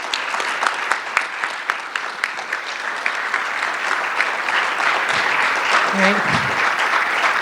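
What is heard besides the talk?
audience applause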